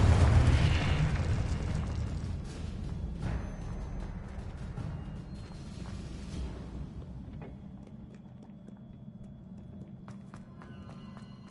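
Fire and blast spells in Hogwarts Legacy erupt in a loud burst at the start, followed by a long rumbling, crackling decay that thins out, with faint scattered pops near the end.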